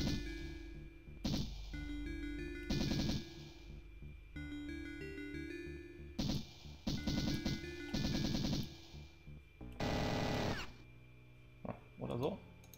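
Submachine gun fire in the video game Syndicate: several short rapid bursts of automatic shots spread across the stretch, loud over a steady electronic music backing.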